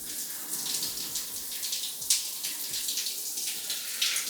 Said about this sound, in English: All right, first time for the cold shower.